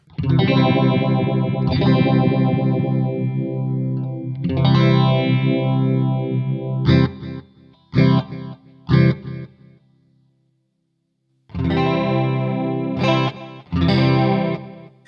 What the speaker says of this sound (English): it's kind of a chorusy delay, and then if I move over here, it's like a phaser delay